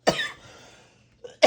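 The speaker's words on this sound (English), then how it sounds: "I do cough a lot" A person coughs sharply twice, close and loud, with a short quiet gap between the bursts, indoors while crafting a cassette-and-walkman junk journal.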